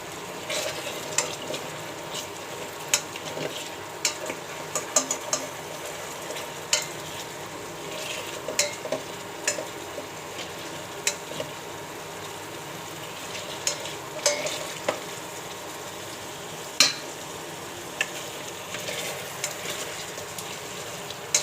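Small eggs sizzle steadily in a pan while a spatula stirs them, with frequent light scraping and clicking over a continuous frying hiss, close and moderately loud, no voices.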